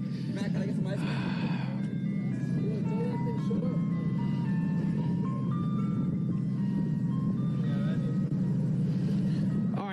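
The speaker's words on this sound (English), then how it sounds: "this ice cream truck is distracting me" An ice cream truck plays its jingle close by outside a warehouse, the tinkling melody running steadily over a constant engine drone, with people talking throughout.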